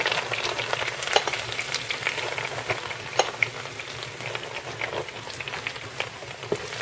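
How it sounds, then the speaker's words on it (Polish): Breadcrumbs frying in melted, lightly browned butter in a pan: a steady close crackling sizzle with scattered small pops and occasional stirring clicks, no voices. "Masło się rozpuściło, lekko się rumieni i daję 4 łyżki bułki."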